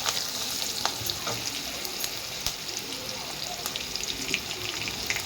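Turmeric is stirred into chicken masala frying in a pan, giving a steady, close sizzle with occasional scrapes and soft knocks of a spoon against the pan throughout.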